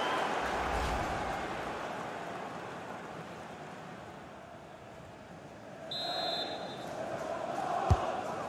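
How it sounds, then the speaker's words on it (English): Stadium crowd noise from the FIFA 22 video game during a Manchester United career-mode match, a steady broad roar that swells slightly near the end, with a brief whistle-like tone midway and a sharp thump just before the close. "just listen to the crowd"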